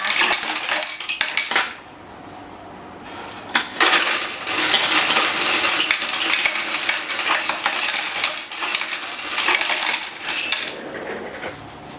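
Thai baht coins run through an EUROX 520 coin counting machine with a loud, rapid metallic rattling and clinking. A brief quieter lull interrupts it before the clattering resumes steadily, with no talk.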